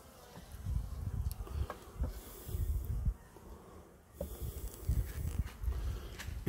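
Bees buzz steadily around an inspected beehive, a dense close drone rising and falling in pulses with no talking.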